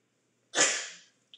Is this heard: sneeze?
yes